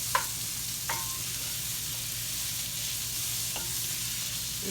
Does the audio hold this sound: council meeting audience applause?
no